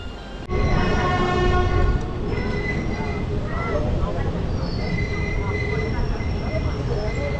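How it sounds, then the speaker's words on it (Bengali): A passenger train pulling to a halt at Eklakhi Junction station, with a sharp horn blast at the start and steady rumbling and wheel noise continuing as the train stands. "এখানে এসে আমাদের ট্রেন দাঁড়িয়ে গেল"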